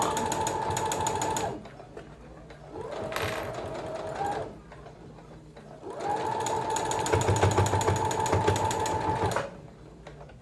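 A sewing machine stitches fabric for a slipper in two long runs of rapid, steady mechanical whirring, separated by brief pauses and a short slower burst; nearby and fairly quiet, with no talking.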